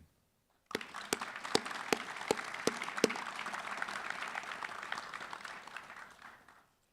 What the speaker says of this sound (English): Recruits, please join me in a round of applause to thank those that supported you here in the crowd today.